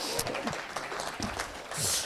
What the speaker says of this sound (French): On peut applaudir quand même, elle l'a trouvé.